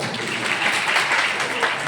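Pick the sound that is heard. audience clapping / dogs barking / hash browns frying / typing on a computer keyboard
audience clapping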